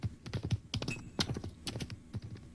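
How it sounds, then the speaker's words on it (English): Horse hooves from a Zelda game trailer clip-clop in a quick, uneven rhythm of sharp close taps, with a brief whistle-like tone partway through. "That was a horse."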